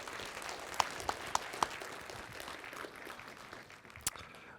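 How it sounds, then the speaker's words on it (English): Conference audience at a C++ talk applauds the speaker, a faint, sparse scattering of claps with a few sharper individual hand claps standing out. "Big applause for Andreas."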